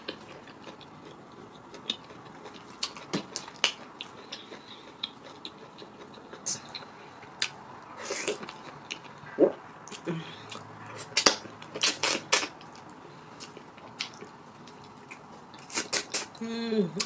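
Close, wet chewing and sucking sounds from eating periwinkle in banga soup with plantain fufu, irregular clicks and slurps over low room noise, growing busier toward the end.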